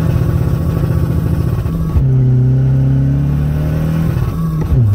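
A Volkswagen Polo 1.6 TDI diesel with a hybrid turbo revs hard and bounces off the rev limiter, loud and close, a droning engine note cut off in repeated stuttering pulses as the limiter catches it.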